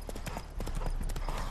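Horse hooves clip-clop in quick, even rhythm as a horse is ridden in The Witcher 3: Wild Hunt, loud and close, with a voice talking faintly underneath.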